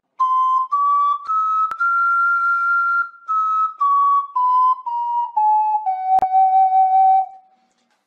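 An ocarina played in its high register using the acute bend technique, a pure whistle-like tone stepping up through several sustained notes and then gradually descending, clear and close with no voice.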